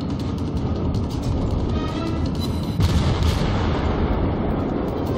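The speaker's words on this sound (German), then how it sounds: "Ich schieße auf ihn los" Naval artillery fire from warships in the World of Warships video game: a dense, continuous rumbling barrage of gunfire with a heavier boom landing midway, loud and sustained throughout with no voices.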